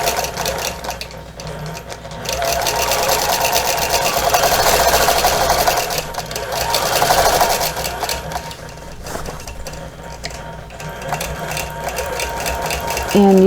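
Sewing machine quilting closely around appliqué on star and tulip place mats, a continuous loud mechanical whir that rises and falls in speed over a low steady hum.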